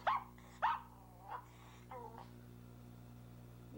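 A dog gives two sharp barks close by, then softer yips and whimpers over a steady electrical hum, fading into quiet.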